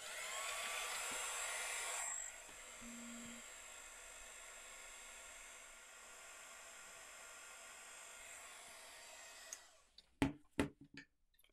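A heat tool blows steadily at close range, melting metallic embossing powder for a two-tone cardmaking effect; its loud hiss runs for about two seconds, then continues softer and steady until it cuts off, followed by a few sharp handling knocks.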